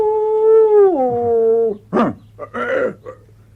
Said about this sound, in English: There's no need to howl like a blasted hyena. It was a wolf.